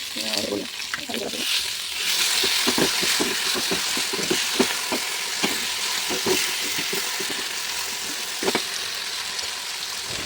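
Vegetables frying in a pan for a vegetarian mocha ghonto (banana flower curry), with tomato added, give a steady close sizzle and occasional stirring clatter, while a voice talks over the cooking.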